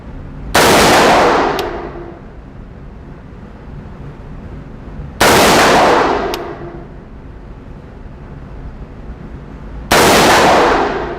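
Three single shots from an AR-15 rifle fitted with a Hyperfire heavy gunner trigger, each a loud, sharp report with a long ringing decay, spaced about five seconds apart outdoors, no talking.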